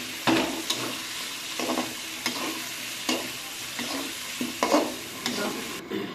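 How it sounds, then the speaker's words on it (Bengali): Vegetable stalks are stir-fried in a pan for a potato, stalk and mango curry: rhythmic spatula scrapes and stirring strokes roughly every half second over a steady close sizzle, with no talking. "আর একটু ডাঁটাটা কষিয়ে নিই, নাহলে হালকা গন্ধে থাকবে।"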